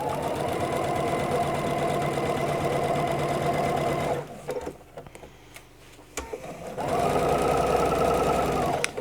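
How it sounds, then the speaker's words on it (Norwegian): A sewing machine stitches a jacket in steady, loud bursts of whirring motor and needle clatter, pausing briefly in the middle before running again. "Da syr du små partier av gangen, og så fører du arbeidet jevnt gjennom maskinen."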